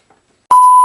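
A loud, steady electronic censor beep, a pure continuous tone that cuts in abruptly and holds to the end with no talk around it.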